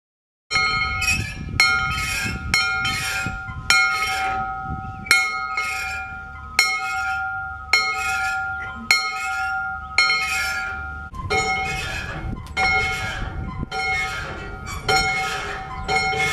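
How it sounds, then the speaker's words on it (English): A steam locomotive's bell at a heritage depot museum in West Liberty, Iowa, rings about a dozen bright, ringing strikes at a steady, unhurried pace, each tone lingering before the next. "even ring the locomotive's bell"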